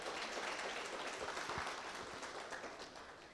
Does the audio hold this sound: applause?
yes